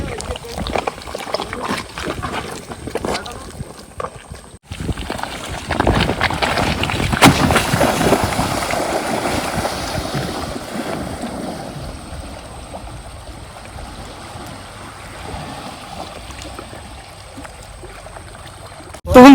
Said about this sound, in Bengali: আর এখন কিন্তু সবাই মিলে বোটটা নামিয়ে নেবো।